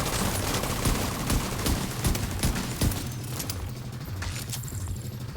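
Shotgun gunfire in the video game The Division 2, with loud repeated blasts in quick bursts over a dense, continuous background of game noise.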